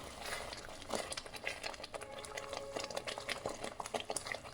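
Masala spices roast in a pan for boneless chicken, giving a quiet, steady crackling sizzle with soft stirring scrapes and small popping ticks throughout.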